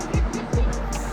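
Ferrari F355 engine heard up close, a loud rasping roar with a quick series of rising revs and gear changes, with talk over it.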